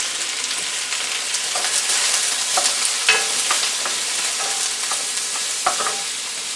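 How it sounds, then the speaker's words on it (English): Sliced onions and chunky mushrooms sauté in a pan for mushroom soup, a bright continuous sizzle at moderate volume broken by soft spatula scrapes and taps, with no talking. "the onions are starting to get a little bit translucent"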